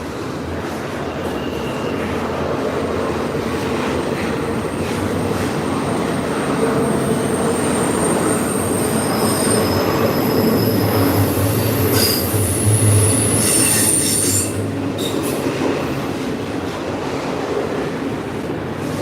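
A freight train hauled by an SD70ACU locomotive rolls past at the Yale Tunnels, its wheels squealing loudly and continuously over a steady heavy rumble, close and with no voices.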